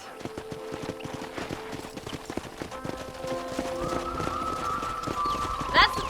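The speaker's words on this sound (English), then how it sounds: "This one's for the horses." Horses trot in the Red Dead Redemption video game, a steady clip-clop of hooves running under game music, with someone talking over it and a brief whinny near the end.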